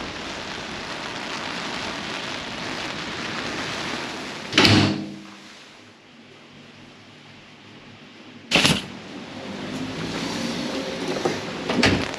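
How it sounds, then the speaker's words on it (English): A door closes twice on a rainy day on the Isle of Man, each a sharp, loud thud standing out against a steady rain-like hiss that drops away between the two shuts. "Well, that's the door closed behind me."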